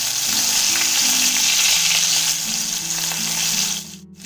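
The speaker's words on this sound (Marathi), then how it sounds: "जिरं टाकते थोडंसं" Cumin seeds crackle and sizzle in hot oil with green chilies, a loud close frying hiss that holds steady and then drops away abruptly near the end.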